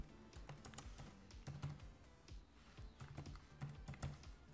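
Password being typed on a computer keyboard, a run of close, light key clicks in an uneven rhythm with short pauses, no talking.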